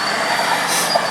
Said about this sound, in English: cute little old man driving a tractor right here.